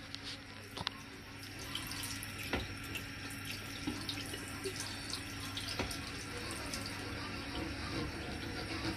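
Kitchen tap water runs steadily onto a knife cutting through something slimy, a continuous close splashing stream with occasional soft clicks from the blade and no talking.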